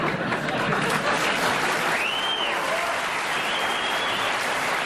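Studio audience applause on a 1984 late-night talk show: a steady, dense wash of clapping that holds at an even level for the whole stretch, with no voices on top.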